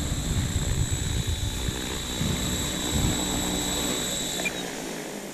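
Blade 500 X radio-controlled helicopter landing, its close rotor whine and blade chop steady before the high motor tone cuts off and the sound winds down.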